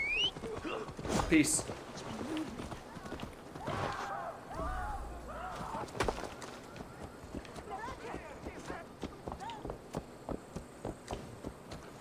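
Summoned horse hooves in Assassin's Creed Valhalla, a run of regular galloping thuds building in the second half, beneath game sounds and a brief spoken word earlier.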